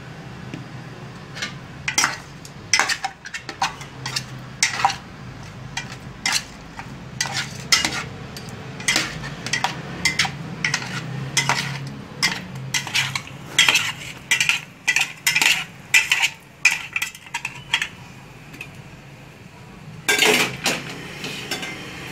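Batter with a little coloring stirred in a cast iron pan, giving repeated scraping, clinking strokes in an uneven rhythm over a low steady sizzle, close and fairly loud.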